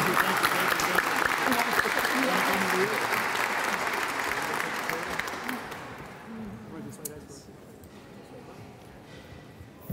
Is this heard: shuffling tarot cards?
no